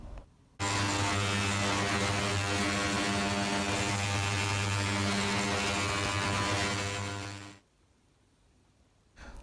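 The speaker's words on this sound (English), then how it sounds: "now I will put the whole case and bezel into an ultrasonic machine to get rid of all the old cutting compound" An ultrasonic cleaning machine runs with an old Omega watch case and bezel inside, a loud, steady electric hum and buzz that starts abruptly, holds for about seven seconds, then fades out close by.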